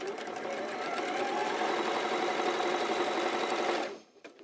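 A sewing machine runs a seam along the edge of quilt blocks, a close, even mechanical whir for nearly four seconds before stopping abruptly.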